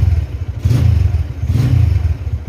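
A 2013 Yamaha Vixion motorcycle engine idles with a close, rapid chugging pulse, then is blipped twice, each brief rev swelling and falling back to the lumpy idle.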